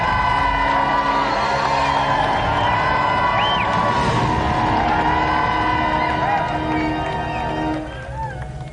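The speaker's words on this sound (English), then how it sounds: "round of applause there for Lee and David" Game-show studio audience applauds and cheers for contestants Lee and David, a loud sustained roar of clapping and whoops that dips slightly at the end.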